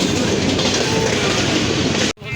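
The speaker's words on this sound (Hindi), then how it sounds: "ट्रेन आ गई।" A train rolls past a railway crossing gate in Pakistan, a loud, close, continuous rumble with clattering wheels that cuts off abruptly near the end.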